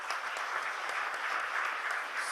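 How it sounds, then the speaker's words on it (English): Steady, moderately loud audience clapping at an IACTS iPREP meet in Durgapur, many hands blending into an even wash of applause for its full length. "Once again, let's give him a big clap."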